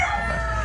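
A rooster's crow in a backyard flock of chickens, a brief, fairly loud tonal call that is cut off after a fraction of a second.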